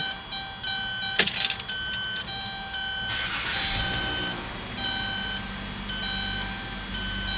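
Repeated electronic beeps from a refrigerant leak detector searching on a Dodge Caravan with a leaking rear AC evaporator, in a steady on-off pattern, each lasting around half a second, with a brief rustle and hum in between.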